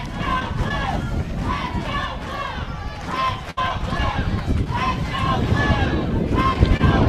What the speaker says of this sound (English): Crowd trying to will Michigan into some big hits.